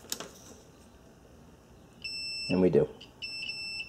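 A continuity-mode multimeter emits a steady, high electronic beep while its probes touch two terminals of a five-terminal relay; the tone sounds twice with a short break, and someone speaks briefly between the beeps.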